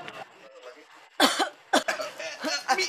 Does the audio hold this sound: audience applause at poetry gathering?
no